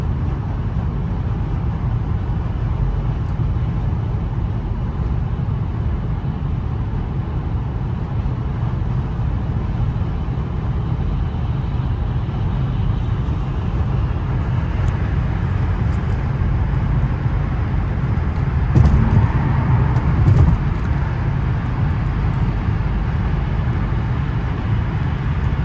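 Steady drone of a 2004 Jaguar XJ8 engine cruising in city and freeway traffic, heard from inside the cabin with constant road and wind rumble and a brief louder bump near the end, no talking.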